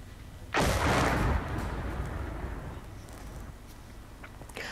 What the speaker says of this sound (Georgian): ვიდეოში ნაჩვენებია, თუ როგორ ჩაეშვა აფეთქების შედეგად ხიდი მდინარეში